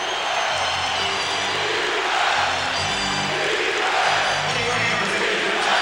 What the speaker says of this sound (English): So Stefan gets the crowd going